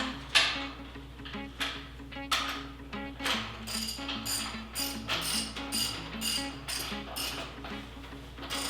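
A ratchet clicks in quick rhythmic bursts, tightening the blower on a front engine dragster, close and crisp, with brief pauses between strokes and no talking.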